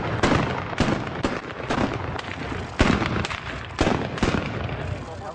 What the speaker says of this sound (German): Wir werden 2 Böllerschüsse machen